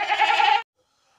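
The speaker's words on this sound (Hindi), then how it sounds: "बहुत ज़बरदस्त बकरी है," Pregnant female goat, tall and long-eared with four teeth, due to give birth in about twenty days, lets out one loud, close, wavering bleat that stops abruptly into silence.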